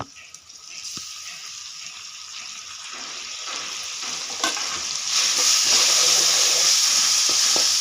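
Grated raw mango with turmeric and curry leaves fries in a pan, starting quiet and building into a loud, steady sizzle with stirring scrapes close by.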